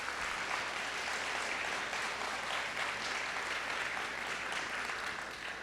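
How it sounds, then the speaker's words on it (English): Steady, dense applause from a convocation audience honoring adjunct teachers at TCC, sustained and even at moderate distance with no pauses. "So let's give them another round of applause."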